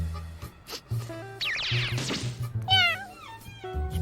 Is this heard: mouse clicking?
no